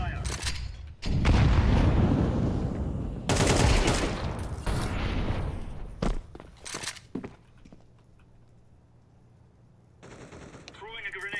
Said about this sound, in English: Throwing a grenade. Throwing a grenade. Grenade out. Incendiary out.